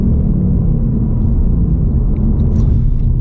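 A 2024 Ford Mustang Mach 1 engine held against the rev limiter, a loud, dense, low rumbling roar that stays steady and unbroken for the whole moment.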